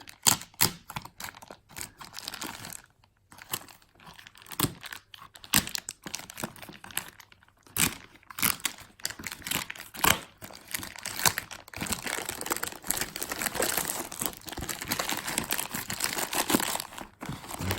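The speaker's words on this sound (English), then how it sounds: "Open the package." Crinkling plastic and cardboard packaging as a Vivo V15 Pro phone box is opened, with a dense run of close, irregular crackles, rustles and small taps that grow busier and louder toward the end.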